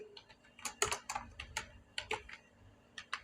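Code being typed on a computer keyboard during a JavaScript tutorial, heard as irregular, close, quiet key clicks in quick clusters with short pauses between them and no speech.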